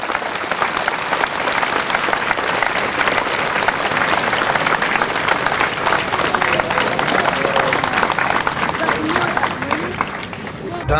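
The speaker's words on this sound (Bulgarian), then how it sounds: "Аплодисменти за всички вас!" A large crowd gives sustained, dense applause at the unveiling of a sculptural composition honoring Todor Kolev in Shumen, continuous clapping with voices mixed in throughout.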